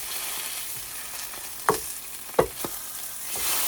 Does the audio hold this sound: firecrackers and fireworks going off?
no